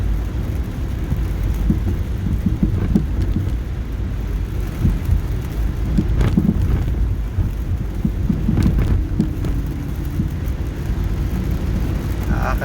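Dense, continuous rain pours down with a heavy low rumble underneath, steady and loud throughout with occasional swells.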